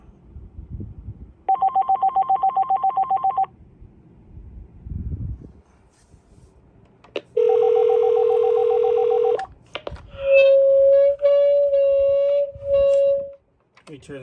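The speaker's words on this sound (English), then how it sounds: "There goes the other ringer on this." A vintage AT&T landline phone rings loudly and close in a few electronic bursts, with short tonal beeps after them and a faint voice in the pauses.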